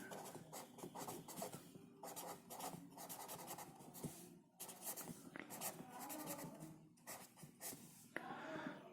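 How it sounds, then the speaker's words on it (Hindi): Chalk or marker scratching across a board in a physics classroom, a quiet run of short strokes in bursts with brief pauses between, mostly alone with little talk. "मैं यहाँ पे लिख देता हूँ"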